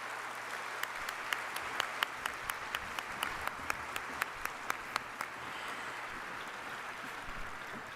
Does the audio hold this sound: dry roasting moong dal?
no